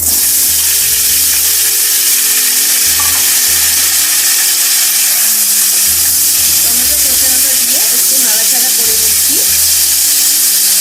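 Tomato pulp tipped into hot oil with two dried red chillies for a Bengali-style tomato chutney, a loud steady sizzle with a few clinks of a spoon scraping the pan.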